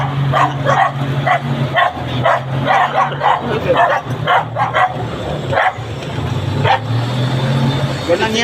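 Several dogs barking angrily at a golf cart at Punta Fuego in Nasugbu, Batangas; loud, close, repeated barks and yips with a whimper, a low vehicle hum underneath and people talking over them.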